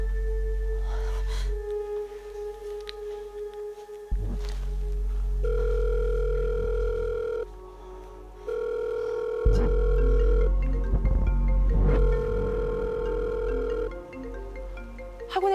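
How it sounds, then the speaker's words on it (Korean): A telephone rings in a steady electronic tone, repeating in long pulses with short gaps, fairly loud and alone. "학원에 딸린 테라스 쪽에서 희미하게 벨소리가 들리는 거예요"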